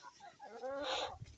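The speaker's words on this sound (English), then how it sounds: "dumb chicken." A chicken at a backyard coop lets out a short, close burst of squawking clucks lasting about a second, loud and alone.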